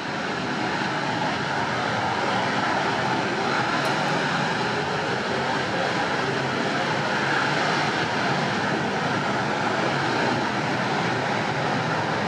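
Handley Page Victor K2 tanker XM715 at Bruntingthorpe Aerodrome, its jet engines roaring in a steady, loud, broad rush that holds constant throughout, with no talk over it.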